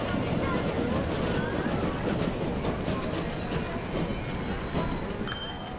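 A train in Transport Fever rumbles along with a continuous, loud rolling roar and high wheel squeals and screeches toward the end, close by.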